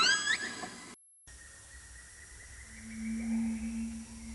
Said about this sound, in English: Each killer whale pod sings songs in its own dialect to identify kinship.